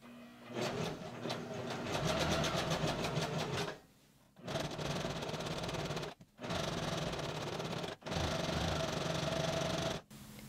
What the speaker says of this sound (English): So I set it to C for the zigzag and about number 2 for the length and the width. And just sew it close to the edge.